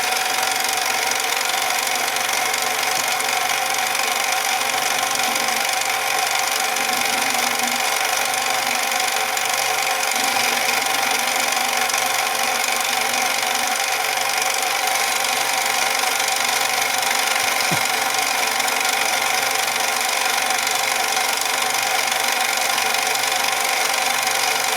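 A metal lathe faces off a blank for a homemade chuck jaw, giving a loud, steady machining drone that runs unbroken throughout with no voices.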